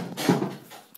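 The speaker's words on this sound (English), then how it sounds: "I knocked a few chairs down just there," Chairs knocked over indoors give a single close clattering thunk with a brief scrape, then a quick fade and a small knock at the end.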